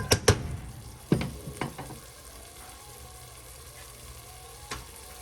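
Onions frying in a soup pot for potato soup, with a couple of sharp clanks of utensil on metal near the start and scraping, then a steady low sizzle running underneath alone.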